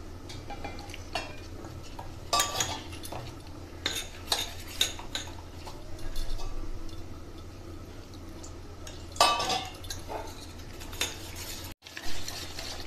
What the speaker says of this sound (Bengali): খুব ভালো করে ফেটিয়ে একটা ব্যাটার তৈরি করে নিচ্ছি।